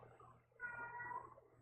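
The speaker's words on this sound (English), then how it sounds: "Bear's at my door meowing." A cat named Bear meows at a door, a single faint, drawn-out cry heard from a little way off in a quiet room.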